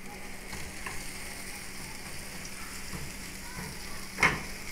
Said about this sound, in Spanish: Sofreiremos.